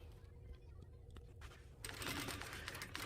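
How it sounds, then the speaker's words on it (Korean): Home sewing machine with a standard presser foot running a short burst of stitching through quilted padding fabric on fusible batting, a soft rapid mechanical patter that speeds up and grows louder toward the end. "가운데만 양쪽 균형 있게 두 손으로 이제 고정해 주시면서 박음질을 해주시면 돼요."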